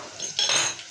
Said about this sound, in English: first I'll stir the rice